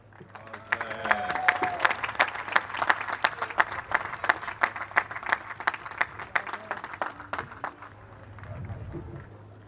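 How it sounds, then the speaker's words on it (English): A modest group applauding at a graduation ceremony, with individual claps distinctly audible in a quick, uneven patter that tapers off toward the end over a low steady hum. "Please join me in giving all of our graduates of 2020 a round of applause."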